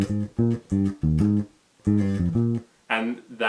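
A bass guitar plays a bass line, a run of short, punchy low notes in separate phrases, with a few brighter plucked notes near the end. It is heard alone, close and clear.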